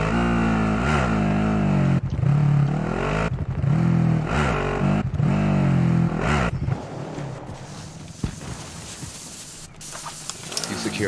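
A car engine in Call of Duty Modern Warfare 2 Plunder mode revs in repeated rising bursts, loud and close, then drops into rougher driving noise and clatter while voices talk briefly.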